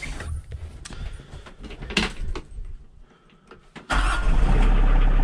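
A tractor engine cranks unevenly for a few seconds, drops almost to silence, then catches and settles into a loud, steady, close running roar.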